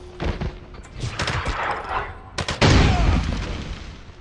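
Gunfire in a shootout in the James Bond 007 Blood Stone video game, with dense, noisy bursts of shots through most of the clip and a loud, sustained blast of fire near the end.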